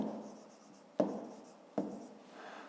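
A pen scratches across paper in close, quiet strokes as numbers are written by hand for a fifth-grade maths exercise, with two sharp taps as the pen touches down and no talk.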